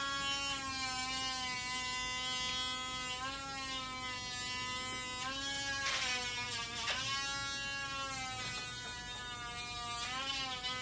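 An electric nail grinder buzzes steadily and up close as it smooths a dog's trimmed toenails. Its whine dips in pitch whenever it presses against a nail.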